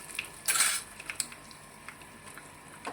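A metal spoon clinks and scrapes in a small pan of tempering with urad dal, chillies and curry leaves, a few bright, separate knocks close by, one louder cluster near the start, then quieter taps.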